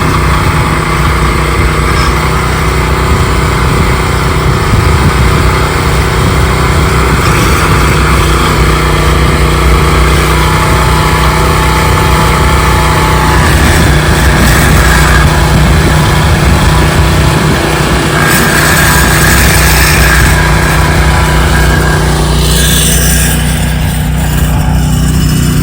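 A low-voltage wire trencher's engine runs steadily throughout while cutting a trench across a large yard for an in-ground dog fence, a loud, continuous mechanical drone with no talk.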